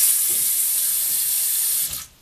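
Water runs steadily from a tap in a hotel room, a constant close hiss that stops abruptly near the end.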